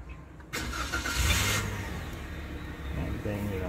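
A 2021 Toyota Avanza's engine cranks and catches abruptly, then settles into a steady idle close by, with a person talking faintly over it.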